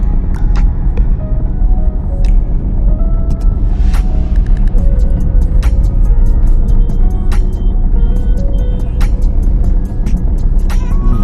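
A car creeps forward under clutch control during a driving lesson, giving a steady, close engine rumble with a low hum that holds through the whole stretch, with a few light clicks and no talking.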